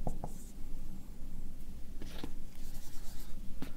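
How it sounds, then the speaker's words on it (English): Marker or chalk scratches across a board in short strokes, close and fairly quiet, with a few sharper taps as letters are finished. "maybe I should write that a little bit bigger."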